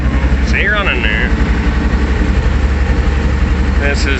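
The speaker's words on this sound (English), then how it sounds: "This is definitely not his favorite tractor to run." An old tractor engine idles low and steady with a regular chugging pulse, while voices speak over it intermittently.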